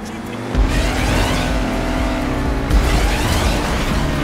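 A car engine roaring at high revs in a GTA 5 race, loud and continuous with a gear change partway through, dense and unbroken throughout.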